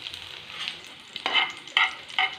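Onion, green chillies and curry leaves fry in a pan with a steady low sizzle, punctuated by three louder bursts of stirring or tossing near the end, close by with no voices.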